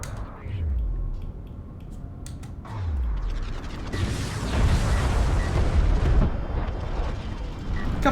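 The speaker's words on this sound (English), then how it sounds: "A couple of missiles gonna be attempted, but NoFun is playing this right" Missile launches and explosions in the real-time strategy game Homeworld: Deserts of Kharak, with repeated descending booms and a dense, rumbling barrage of fire building up in the second half.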